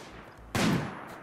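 One sharp gunshot from the colony game RimWorld Alpha 17 cracks out against quiet background hiss and then quickly decays.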